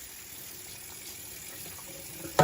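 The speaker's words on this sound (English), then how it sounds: "And now all I'm going to do is just wash this off really quickly with some cold water." Cold tap water runs steadily over a peeled cantaloupe half in a kitchen sink, a continuous close splashing rush that stays even throughout and ends with a brief louder knock.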